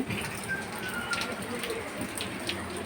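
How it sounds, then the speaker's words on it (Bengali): Steady rain falls outside a veranda in Kushtia, a soft continuous hiss throughout with a few faint bird calls over it. "সকালবেলা থেকে অনেকবার বৃষ্টি এসছে এ দেখো বন্ধুরা বৃষ্টি হচ্ছে"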